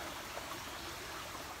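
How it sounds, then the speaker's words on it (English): A small trickling, bubbling brook flows beside a trail shelter on the Appalachian Trail, a steady close wash of running water with no pauses and no voices. "a beautiful, trickling, little bubbling brook going down the way here"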